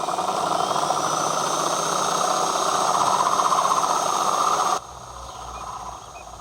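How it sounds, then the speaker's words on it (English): A drill cuts steadily into fragile rock crystal while being eased slowly into position to score it, giving a loud, even grinding drone that drops off abruptly near the end into a quieter hum. "While Shaun in Bolton begins drilling his fragile rock crystal"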